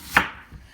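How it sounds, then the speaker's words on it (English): A knife chops once through an onion on a board while pizza toppings are prepared, giving a single crisp close cut followed by a faint softer knock. "I like cutting long strips of onion"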